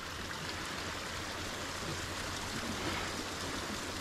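Strong sea waves roll steadily against the winter coast of Ireland, a continuous broadband wash of surf with no distinct breaks and no voices.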